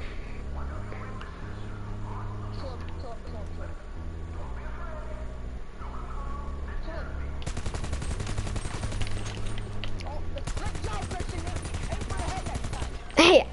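Bursts of rapid automatic gunfire from a GTA Online Cayo Perico shootout, crackling over a steady music bed, with a heavier sustained stretch near the middle and another later, ending in a sharp loud hit.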